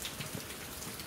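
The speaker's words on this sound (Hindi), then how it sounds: "जस्ट अभी बारिश चालू हुई है" Rain falls steadily outdoors, a soft broadband patter with a few brighter drops close by, no talking.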